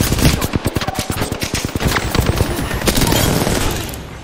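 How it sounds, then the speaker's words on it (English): Rapid automatic gunfire in an online squad shooter game, a dense burst of sharp shots hammering in quick rhythm, then trailing off into a rumbling blast tail, loud and close with no talk. "I'm getting shot at. They're shooting at me."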